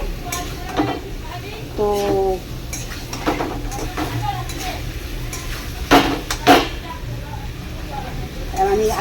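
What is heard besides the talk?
stirring and sautéing mushroom and potato with spices in a pan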